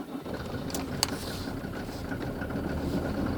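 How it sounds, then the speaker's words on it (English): A 1990 Mercedes W124 250d diesel with bad glow plugs, a weak battery and a failing starter idles after a cold start at about 0°C, a steady low rumble with one sharp click early on. "I hope I will start the engine."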